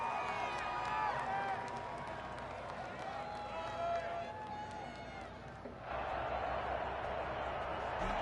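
Home crowd noise at a football game: a broad, continuous roar with cheering and clapping under a voice, swelling louder near the end.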